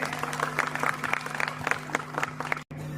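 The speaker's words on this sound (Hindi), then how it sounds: "जोरदार तालियां बजा सकते हैं।" Guests at a 50th wedding anniversary celebration clap steadily together, a sustained patter of many hands close by under a faint hum, cut off abruptly near the end.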